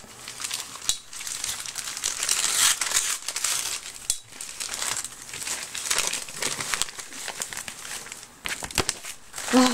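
A parcel is unwrapped with loud, close paper crinkling and crackling that runs nearly unbroken, with occasional sharper tears and rustles.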